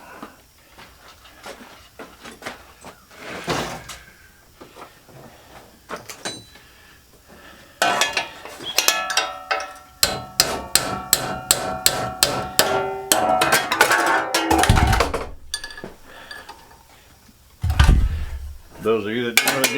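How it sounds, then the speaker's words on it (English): A set of Allen keys being gathered and put away after work on a large scrap fan motor, giving off close, bright metallic clinks and rattles, sparse at first and then a dense run of rapid clatter with a few heavier knocks near the end. "we're done with the Allens now, so I'll put them away, get them out of the way"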